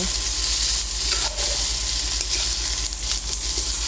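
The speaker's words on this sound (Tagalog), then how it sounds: "gisa lang po natin ng maigi hanggang sa mag-combine lahat ng ingredients" Squash and string beans sautéing in a pan for ginataang kalabasa at sitaw, a loud, close, continuous sizzle with occasional stirring scrapes, no voices.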